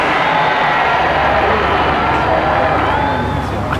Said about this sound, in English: He's already acknowledging the cheers of the crowd. And they raise and cheer to a man.